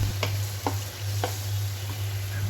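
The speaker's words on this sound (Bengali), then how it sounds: "এবার চিংড়ি মাছটাও বেশ কিছু সময় ধরে কষে নিতে হবে।" Prawns stirred and sautéed in a spice paste in a pan for kochu loti with shrimp, a few distinct spatula scrapes over a steady low hum and faint sizzle.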